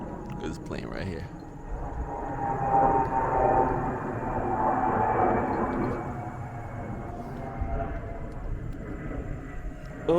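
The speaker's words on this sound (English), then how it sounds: "This plane right here." An airplane passes overhead outdoors near a lakeshore park, a broad rumbling roar that swells through the middle and fades, with brief voices at the start.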